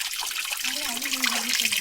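Spring water trickling steadily on a rocky mountain trail during the Parvathamalai trek, a continuous close wash of flowing water with a faint tonal voice-like line partway through.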